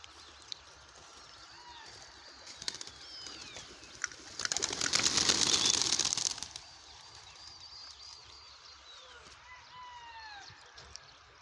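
Captured pigeons kept in boxes coo and stir, with a burst of wing flapping in the middle and faint calls around it, while someone talks nearby.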